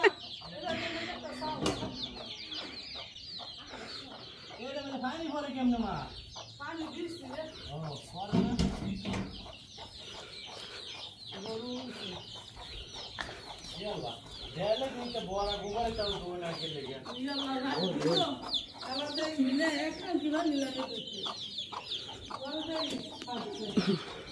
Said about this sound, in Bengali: মুরগির ঘর থেকে মুরগি ছাড়তেছে